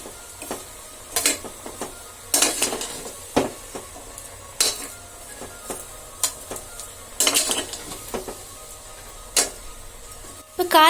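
A utensil scrapes and clatters against a metal pressure cooker in repeated short bursts, stirring vegetables for Kerala-style aviyal with uneven rhythm close by.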